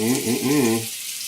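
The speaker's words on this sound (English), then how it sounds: "you can hear it hitting the pan there. A little sizzle happening." A steady sizzling hiss of maple syrup hitting a hot frying pan with apples and onions, with a brief low tonal hum over it at the start before it fades.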